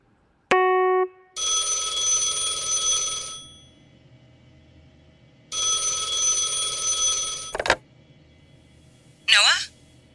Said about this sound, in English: Someone's calling for Noah. Down there, on the phone.